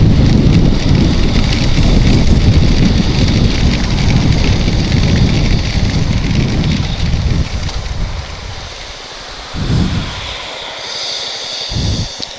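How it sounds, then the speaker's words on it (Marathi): Rain pours steadily during a motorbike ride from Mumbai toward Khandi, a dense close hiss mixed with wind buffeting the microphone, easing and thinning in the last few seconds. "ऍक्च्युली पाऊस चालू झालाय."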